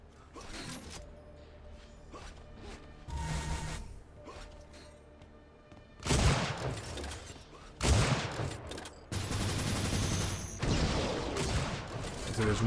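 Sniper rifle fire in the arena shooter Unreal Tournament: a few sharp, loud cracks stand out over quieter mechanical clicks and ambient game noise, with later shots bunched close together.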